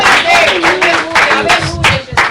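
A church congregation claps to welcome its pastor, with a dense, loud run of applause carried over music and voices throughout.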